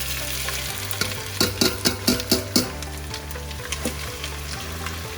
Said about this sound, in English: I put my onions in.